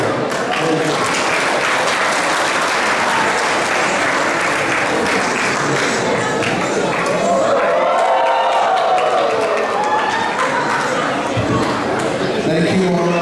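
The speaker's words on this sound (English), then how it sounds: "Another round of applause for Maharaj." Loud audience applause rings out at a Janmashtami celebration in a temple hall in Maple, Ontario, with sustained clapping blended with crowd chatter and a voice speaking over it partway through.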